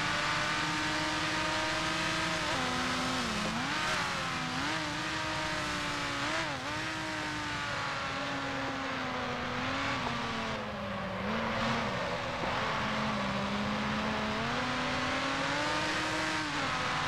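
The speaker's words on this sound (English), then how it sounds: "Oh, I'm being overtaken." Grand Prix racing cars from 1955, including a Gordini T16, at Roy Hesketh circuit in a sim racing game, engine notes rising and falling through gear changes as another car closes and overtakes, continuous and close.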